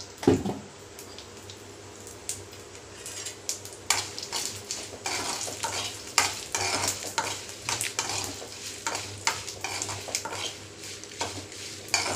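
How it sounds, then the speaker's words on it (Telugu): Green chillies and a little cumin fry in oil for a peanut chutney, a soft sizzle beneath repeated scraping and clinking of a utensil stirring the pan, irregular and close throughout. "మిరగాయలు ఊరకనే వేగిపోతాయండి."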